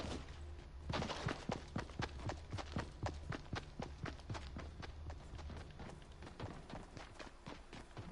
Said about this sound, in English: We're hearing some footsteps above us now,